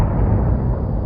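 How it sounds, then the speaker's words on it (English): A loud explosion sound effect in an animated train story, a dense, sustained low rumbling blast filling the whole moment with no voices over it. "we heard an explosion"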